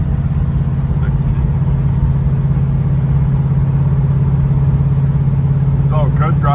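A 1972 Dodge Charger cruises at about 55 to 60 mph, its engine a loud steady low drone heard from inside the car, with a voice rising briefly near the end.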